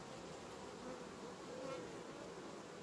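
Honey bees swarm around an open hive in August, their buzzing a steady, dense drone that holds at an even level throughout with no other sounds.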